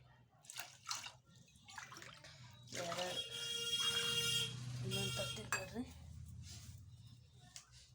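Water pours steadily into a pot of sorghum grits for a couple of seconds, close and fairly loud, with a person talking before and after the pour.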